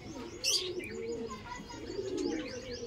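Andhra pigeons cooing and chirping close by in a loft, with soft repeated coos and a brief sharper call near the start, over a low busy background.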